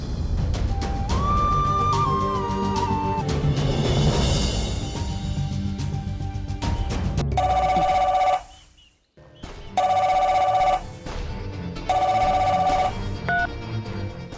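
A telephone rings indoors in a dramatic TV serial scene, with bursts of bell-like ringing separated by short pauses after a stretch of background sound.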